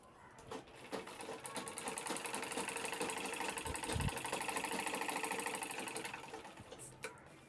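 A sewing machine stitches a cloth shopping bag, a fast, even mechanical whir that starts after a brief pause and runs steadily for several seconds before stopping, with a few handling knocks around it.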